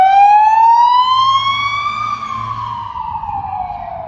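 A police siren passes through a Warsaw city street at evening, one loud continuous wail that climbs in pitch, then slowly falls away as it moves past, with faint traffic rumble underneath and no talking.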